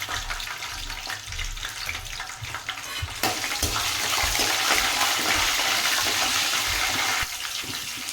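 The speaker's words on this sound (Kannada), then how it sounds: "ಸ್ವಲ್ಪ ಬಟಾಣಿ ಹಾಕ್ಬೇಕಾದ್ರೆ ಹುಷಾರಾಗಿ ಹಾಕ್ರಿ, ಯಾಕಂದರೆ ನೆಂದಿರ್ತಾವಲ್ಲ ಸಿಡಿಯೋ ಚಾನ್ಸಸ್ ಭಾಳ ಇರ್ತಾವೆ" Soaked green peas tipped into a hot pan of oil while making palak rice, setting off a loud, steady sizzle and spatter that swells after a few seconds and holds, with no talking.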